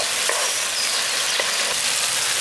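Spice paste frying in oil in a pan, a loud, dense, even sizzle running throughout with faint stirring scrapes and no talk.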